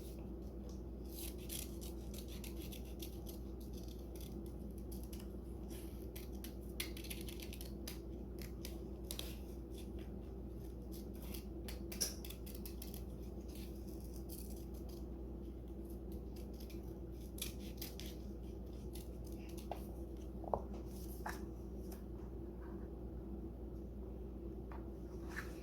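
Scissors snip steadily through paper to cut out a heart shape for a Valentine's doll craft: soft, close, repeated crisp cuts over a low steady background hum, with no talking.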